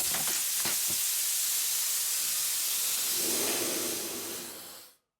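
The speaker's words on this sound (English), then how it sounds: "Everything was going well until the pipe blew out of the boiler." Loud continuous steam hiss from a pipe blown out of a boiler, with a few sharp knocks at the start, holding steady before fading out and stopping.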